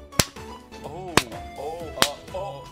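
Three sharp, isolated hand claps standing in for a stage slap, evenly spaced and close, over soft background music with a faint voice.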